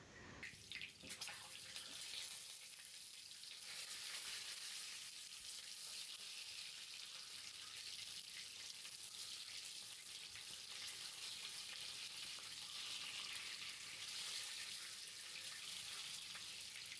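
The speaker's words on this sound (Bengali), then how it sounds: "হালকা লাল করে ডিমগুলোকে ভেজে তুলে নিচ্ছি।" Eggs fry in oil with a continuous, even sizzling hiss that holds steady and close throughout, with no voices.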